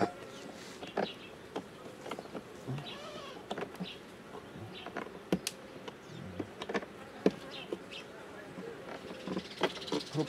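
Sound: honeybee swarm buzzing at beehive

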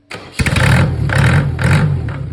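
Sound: Mercedes OM604 2.2 diesel engine revving

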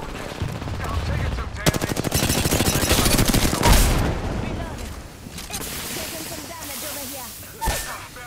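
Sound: gunfire in a video game

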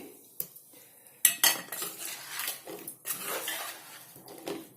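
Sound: stirring amla and green chilli pickle mixture

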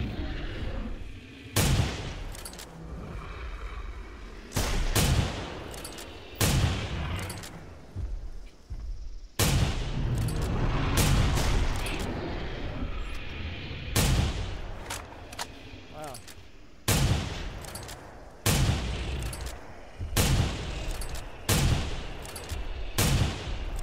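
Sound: gunfire shooting a T-Rex in theHunter: Primal video game

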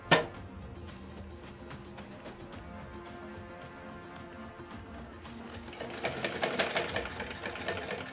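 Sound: sewing machine stitching cloth

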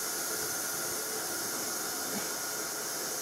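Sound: steam hissing

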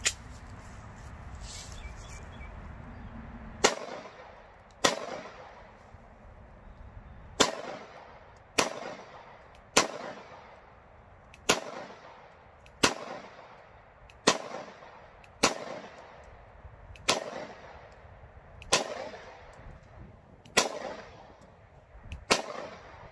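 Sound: gunshots from an FNS-9 pistol

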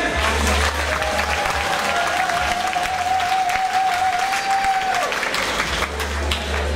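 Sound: audience applause

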